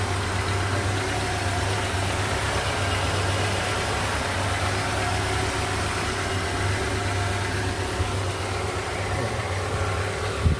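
An engine runs steadily after starting, a loud continuous low rumble and idle vibration that holds unchanged throughout, close by and alone, with no voices over it.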